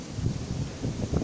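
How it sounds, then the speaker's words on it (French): Outdoor wind rushes and rustles steadily at a low level around a mesh anti-hornet tent at a beehive, a soft continuous buffeting with no voices. "Il y a du vent aujourd'hui."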